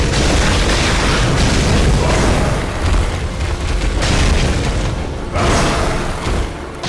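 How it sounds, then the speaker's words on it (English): Molotov cocktail thrown and bursting into flames in the Bloodborne video game, loud roaring, rumbling blasts that swell and fade in waves amid crackling fire and dense game noise. "we want this thing to walk up on us, throw the cocktail, set the fire, and go"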